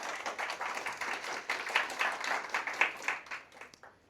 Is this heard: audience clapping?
yes